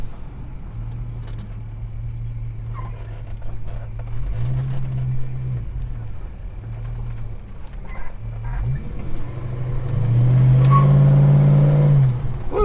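A Holden HK car pulls away in a car park with a brief wheel spin, engine droning low and steady before revving harder near the end, close and fairly loud.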